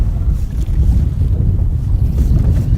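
Strong 30 mph wind buffets a fishing boat on a lake during summer walleye fishing, a loud continuous low roar of wind noise with water slapping underneath, steady throughout with no talk.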